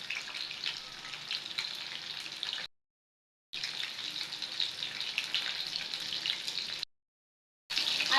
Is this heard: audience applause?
no